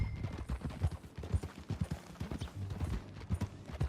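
A horse's hooves clip-clop at a riding pace in Red Dead Redemption 2, a quick, uneven thudding rhythm that stays close and fairly soft, with faint game ambience around it.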